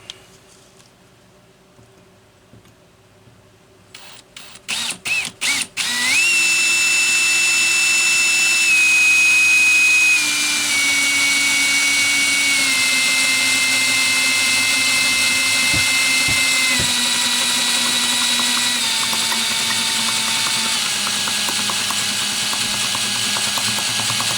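A few sharp clicks and short bursts, then an electric drill whines loudly and steadily at close range, its pitch sagging slightly as it bites in.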